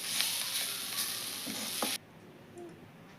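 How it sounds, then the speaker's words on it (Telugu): Cooked amaranth leaf and potato fry is scooped from a hot pan into a serving bowl. A soft sizzle with a few scraping strokes runs for about two seconds, then drops to quiet with faint clinks, and no one talks. "నేను ఇప్పుడు సర్వింగ్ బౌల్లోకి అయితే తీస్తున్నాను."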